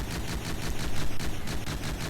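Rapid, loud cannon fire from the video game From The Depths, a dense run of repeated blasts about ten per second rolling on without pause for two seconds, with no talk over it.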